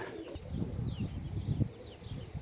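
Pigeons coo softly on a rooftop, low throaty calls repeating in an uneven rhythm with faint chirps and light rustling, quiet and close.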